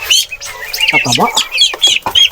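A native chicken hen clucks near her eggs, giving a string of close, loud clucks and short squawks in an uneven rhythm.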